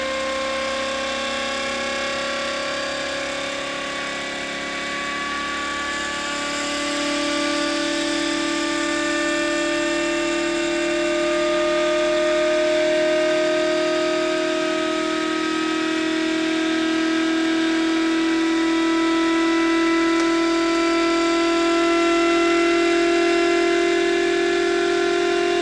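Muller motor running on a test bench at about 2600 RPM: a continuous steady whine with layered tonal hum, drifting slightly in pitch as speed changes, close and fairly loud with no talk.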